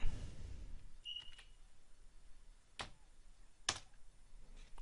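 A handful of sparse, separate keystrokes on a computer keyboard while configuring a LAMP server on Ubuntu 15.10, with sharp clicks spaced irregularly over a quiet room background and no voices.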